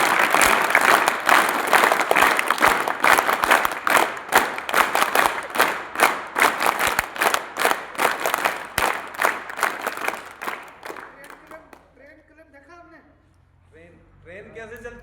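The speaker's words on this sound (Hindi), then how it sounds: "सर है ये रामगोपाल जी और रमाकांत जी, इनके लिए भी एक बार स्काउट कलेक्ट की तरफ से भी ताली होती है।" Students clap together at a residential school assembly, a loud sustained round of applause that fills most of the stretch before fading out, after which a voice speaks.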